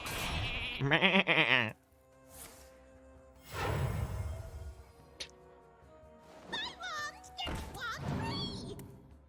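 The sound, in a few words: sheep bleating in Hearthstone video game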